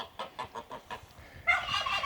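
A goose on a homestead, squeezing through a fence, gives a run of six or so rhythmic honking calls nearby, then a burst of broader flapping and scuffling noise.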